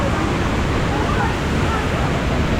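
Strong water current rushing steadily and loudly at Taytay Falls in Majayjay, Laguna, a dense continuous roar filling the whole moment.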